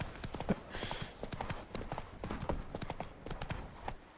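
Horse hooves trotting in The Witcher 3: Wild Hunt, a steady rhythmic clip-clop at moderate level, close and continuous with light background ambience.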